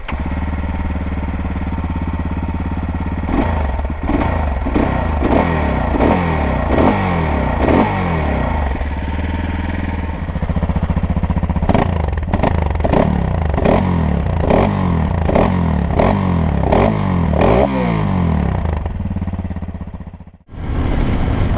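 A SWM Superdual 650 T single-cylinder motorcycle fires up nearby and runs with a steady thumping idle, then revs repeatedly in rising and falling blips before cutting out near the end.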